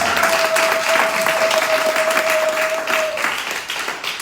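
A church congregation applauds loudly during a worship service, a dense, sustained clapping with a steady held tone underneath that thins out slightly toward the end.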